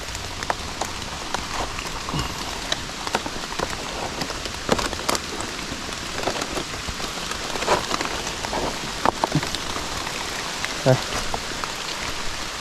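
Steady storm rain patters across a surface outdoors while foraging for mushrooms, with scattered louder drops and taps standing out over the constant hiss.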